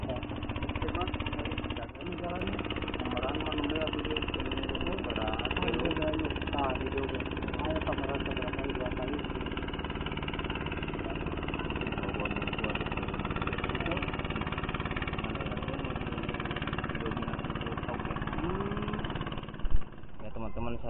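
A vehicle engine idles continuously and close by, a low rumbling drone with a steady vibration lasting throughout, while voices talk over it.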